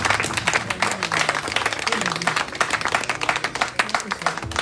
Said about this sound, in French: Kunnen we applaudisseren voor de Heer?